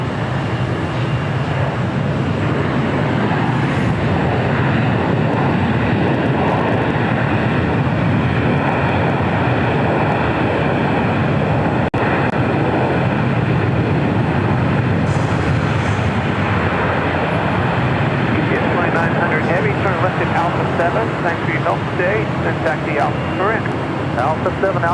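China Freight 3126, a heavy cargo jet, takes off from runway 25 right at LAX at night, its loud, steady engine roar holding throughout the clip under intermittent radio and commentator talk.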